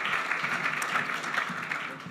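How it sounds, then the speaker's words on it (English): A business chamber of commerce audience gives a short, soft burst of applause for a guest speaker. The clapping is steady and slightly distant. "Round of applause for Julian Day."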